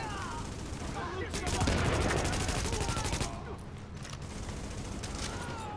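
Gunfire in the video game The Division: dense, rapid automatic shots under a continuous game soundscape, with a voice talking over it.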